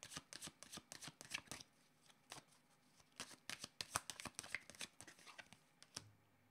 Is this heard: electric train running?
no